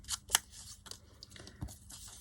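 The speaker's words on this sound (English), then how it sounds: "I just cut it down." Scissors cutting down a paper bird stamp, a few short, quiet snips and paper rustles close by, spaced unevenly.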